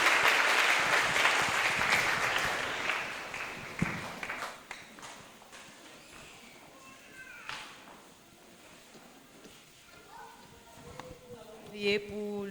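Congregation clapping for the Lord in a church service, a burst of applause loudest at the start and fading over several seconds into scattered claps, murmuring voices and a few stray sounds.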